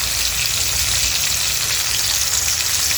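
Pieces of hilsa fish with roe fry in hot oil, giving a steady, dense, close-up sizzle that stays even and loud throughout with no talking.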